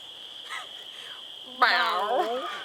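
A person vocally imitates a green frog's croaking call, a low twangy note followed by a few rough, warbling croaks, close and fairly loud.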